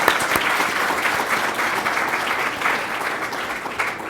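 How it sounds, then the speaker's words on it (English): A ceremony crowd honoring animals in war and peace claps steadily, a dense, even round of applause lasting throughout. "How about a round of applause?"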